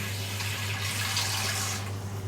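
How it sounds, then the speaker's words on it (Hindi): Water runs steadily into a pot of potatoes and chickpeas for Pakistani-style aloo chana, a close, continuous splashing hiss over a low hum with no talking. "यहाँ पर हम बिल्कुल थोड़ा सा पानी ऐड करेंगे ताकि आलू के बीच में गल जाए।"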